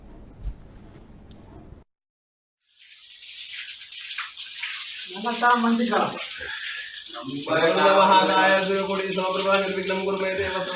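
Water is poured over village deities during a farmers' rain-prayer ritual, a rushing splash that starts after a brief silence and continues under voices and chanting.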